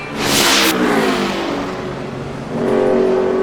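A NASCAR Sprint Cup race car on a qualifying lap at Phoenix in 2010, its engine roaring loud and close, easing off into a lower drone, then building again toward the end.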